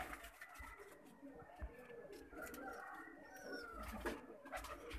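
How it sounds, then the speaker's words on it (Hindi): Pigeons coo from a rooftop loft during pigeon flying in Faisalabad, Punjab, soft and fairly distant, repeating under outdoor background noise and scattered bird sounds. "डबल कबूतर आ गया ही है ना।"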